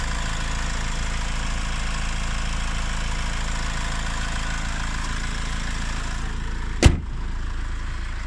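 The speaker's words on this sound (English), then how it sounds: "engine sounds lovely and quiet, you can hear it there" A 2011 Honda CR-V EX engine idles at a steady low hum throughout, with a single sharp thump or click near the end.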